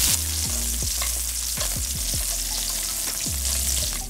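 Steak sizzles steadily in a hot pan while truffle butter is spooned over it, with a string of scraping spoon strokes against the pan cutting through the continuous frying hiss.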